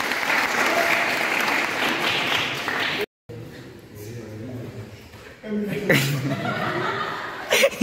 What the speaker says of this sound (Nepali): ताली पड़ा